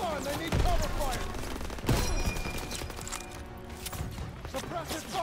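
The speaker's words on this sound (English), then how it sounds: "Suppressive fire! Keep firing!" Gunfire and grenade blasts in a Call of Duty WWII battle, rapid overlapping rifle and machine-gun shots with heavier thumps, loud and continuous, while soldiers shout over the fighting.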